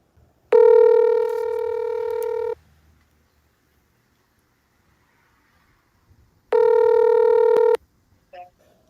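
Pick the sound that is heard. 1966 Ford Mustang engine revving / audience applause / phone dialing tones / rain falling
phone dialing tones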